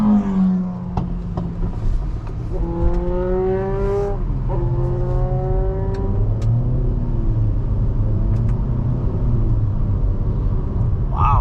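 A 2024 Nissan Altima SR VC-Turbo pulls away from a stop, heard from inside the cabin. The engine drone rises in pitch under light throttle over a constant low road rumble.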